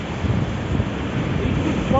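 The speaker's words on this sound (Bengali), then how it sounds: "ঢেউয়ের আওয়াজ পাচ্ছ?" Sea waves wash in at Tajpur beach, a broad surging roar buffeted by strong wind against the microphone, with a few voices faint in the background.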